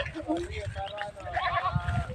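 Someone imitates a goat, letting out a few wavering, nasal bleats. The calls are mixed with laughter and chatter from other people nearby, fairly quiet overall.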